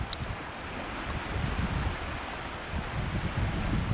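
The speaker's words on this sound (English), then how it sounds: "Wind is still blowing, which is even better" Wind gusting across an open lakeshore beach, a broad rushing noise buffeting the microphone, steady with small swells and no voices.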